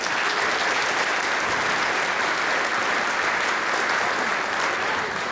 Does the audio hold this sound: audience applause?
yes